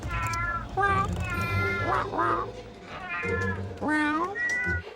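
A person imitates a cat, giving a series of drawn-out, high meows one after another, close and clear.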